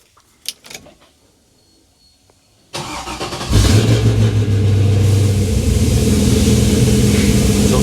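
A 1969 Pontiac GTO engine cranks and catches, then settles into a steady, loud idle that keeps running, preceded by a few faint clicks.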